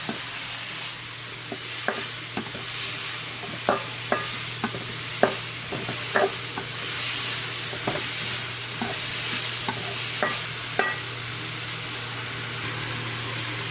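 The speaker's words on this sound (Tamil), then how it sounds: "வெங்காயம் தக்காளி எல்லாம் நல்லா வதங்கிடுச்சு" Onions and tomatoes saute in a pan for pepper chicken masala, a constant loud sizzle punctuated by a regular run of spoon scrapes and taps against the metal as they are stirred.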